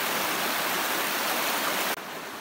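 A forest stream flows steadily along a riverbank lined with green leaves in the Truong Son mountains of Vietnam, a loud, continuous broadband rush with no voices, easing slightly in level near the end.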